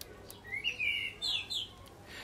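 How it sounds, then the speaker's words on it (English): A few bird chirps close by, short rising tweets in quick bursts over faint background hiss, with no talking. "Bird"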